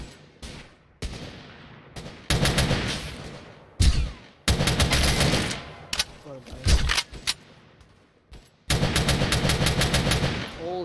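Gunfire in a Roblox sniper game comes as loud, rapid automatic bursts several seconds long, separated by short gaps, with a voice talking over them.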